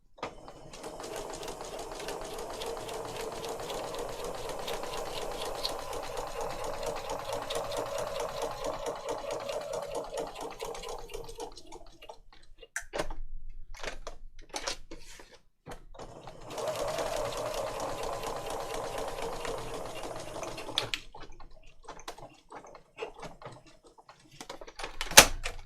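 Sewing machine stitching through junk-journal paper, a fast steady mechanical rattle running in two long bursts separated by a pause with small clicks, close and moderately loud.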